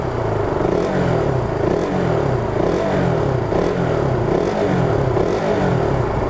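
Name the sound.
KTM RC200 motorcycle engine revving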